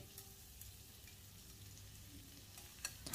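Shallots and the white scallion bases fry in hot oil, a faint, steady sizzle with small scattered crackles and a few sharper ticks near the end, heard close with no talking.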